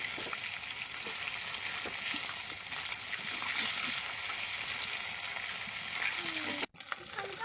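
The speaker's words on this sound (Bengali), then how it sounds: "এই যে দেখুন এটা কি সুন্দর ভাজা হচ্ছে" A rice kurkure snack, made from leftover cooked rice, sizzles in hot oil in a steady, dense crackle that runs close and unbroken, then drops away briefly near the end before picking up again.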